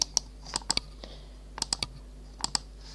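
Sharp mouse clicks while opening saved Facebook bookmarks, a few isolated clicks and quick pairs spread over a few seconds, close and fairly quiet against a faint steady hum.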